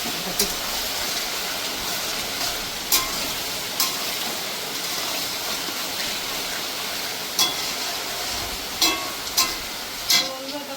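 Chicken kadai masala sizzles steadily as it is stir-fried in a pan, a continuous frying hiss broken by intermittent sharp scrapes and taps from stirring, with no one talking.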